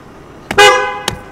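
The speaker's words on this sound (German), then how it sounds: "Das ist die Hupe" A car horn honks twice in traffic: a longer, loud, bright blast followed by a short second toot, with quiet road ambience around them.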